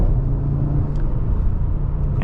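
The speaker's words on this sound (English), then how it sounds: "let's see what the performance is like with the updated car." Deep engine rumble of a 2025 Audi RS3 with a seven-speed gearbox driving, a steady low roar with road noise filling the background, no clear rise in revs.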